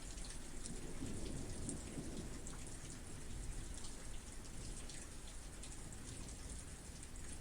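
Steady, heavy rainfall patters on surfaces, joined by low rolling thunder that rumbles on throughout. The wash of sound stays dense and close, with no voices.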